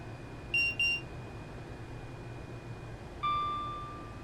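Class 385 electric train horn in Train Sim World 3, two short sharp high toots followed by a longer lower blast that fades out, over a quiet steady cab hum.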